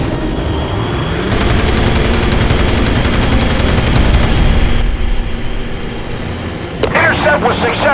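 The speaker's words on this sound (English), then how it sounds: "We're coming under enemy fire." Rapid gunfire and booming explosions in a Battlestations Pacific naval battle at Cape Engano, dense and loud for several seconds before easing, with a radio-style voice cutting in near the end.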